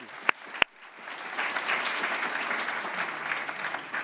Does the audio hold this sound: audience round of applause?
yes